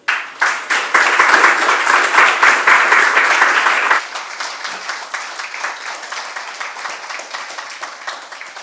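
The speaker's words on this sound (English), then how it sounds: "give Prem a big applause" Audience applause for Prem after a talk, a loud burst of many hands clapping that thins after a few seconds into lighter, scattered clapping.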